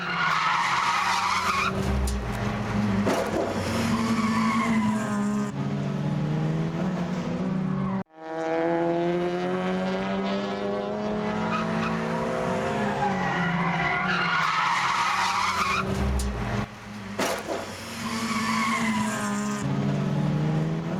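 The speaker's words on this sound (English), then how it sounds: "Trying to slow a mid-engine car during a corner looks something like this." A mid-engine car skids under hard braking through a corner, tires squealing loudly alongside a roaring, revving engine, sustained for most of the stretch with a brief cut partway through, close and without talk.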